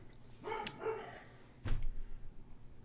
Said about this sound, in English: He just has to bark at all the dogs walking in front of the house